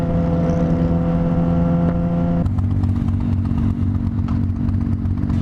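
A Harley-Davidson motorcycle cruises down country back roads near Camarillo. The close, steady engine rumble shifts pitch partway through, as if changing gear, with constant road and wind noise underneath.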